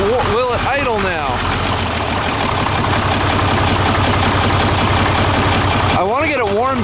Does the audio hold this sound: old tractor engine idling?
yes